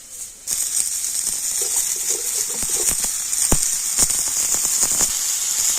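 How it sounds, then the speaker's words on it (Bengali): Fried potatoes drop into a pan of hot oil, first a sudden clatter and then a continuous crackling sizzle with small pops scattered throughout. "আর এবার আমি ভেজে রাখা আলুটাও দিয়ে দেবো"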